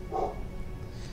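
A pet dog gives a single short bark near the start, then only a faint low hum remains.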